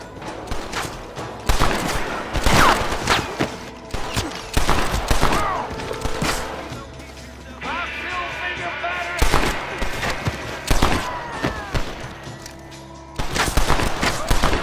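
Bursts of gunfire from the Red Dead Redemption western game on Xbox 360, repeated loud volleys and single shots spread across the scene, mixed with game sounds and voices.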